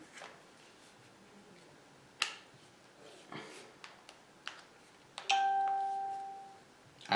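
Several short electronic chimes ring out over quiet room noise, ending in a longer sustained two-tone ding that fades slowly.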